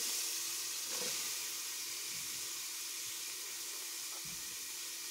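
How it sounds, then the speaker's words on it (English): A steady, fairly quiet sizzle from chopped whole yellow onion going into a pan of frying garlic, with a few soft clinks of stirring over the hiss. "I'm going to go ahead and put in my chopped onion."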